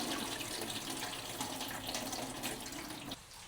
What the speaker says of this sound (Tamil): இந்த மாதிரி நல்ல வடிவாக கழுவி எடுக்க வேணும்